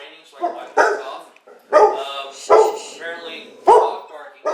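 Several loud, close dog barks in irregular bursts, some with a whimpering, yelping edge, heard alone without talk.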